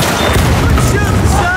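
A grenade explosion in the video game Battlefield gives a loud, sustained rumbling boom that fills the moment, with a voice talking beneath the blast.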